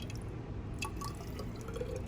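Distilled water trickles from the tap of a jug into a container in a lab, a soft steady pour with light dripping and splashing, close and fairly quiet.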